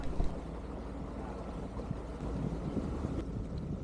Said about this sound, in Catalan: El vent arcia i la navegació es complica.